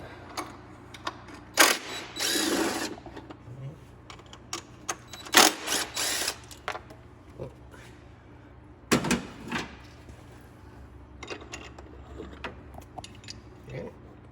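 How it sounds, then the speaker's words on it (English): A small power tool buzzes in short, sharp bursts while parts are removed from an Isuzu Rodeo engine during a teardown, with mechanical clatter and handling noises between the bursts. "a little power tool and it'll help us out."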